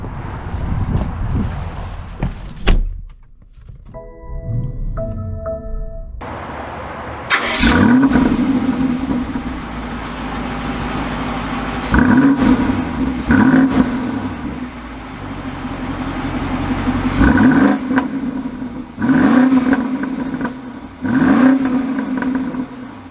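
A 2022 BMW X6 M50i starts up with a brief starter whir and engine catch, then pulls away, with repeated rising engine revs as it accelerates through gears, close and fairly loud.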